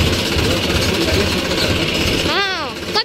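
A large tractor engine runs loud and close, a steady low rumbling drone throughout, with a voice speaking over it near the end.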